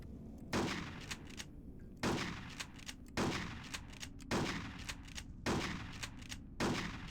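A shotgun in a video game fired repeatedly with pump action, six heavy booming blasts at a steady rhythm about a second apart, each followed by a short mechanical rack, loud and close with no talking.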